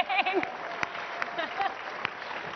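Applause from a conference audience at CPAC, a steady patter of clapping heard at moderate distance, with a voice speaking over it.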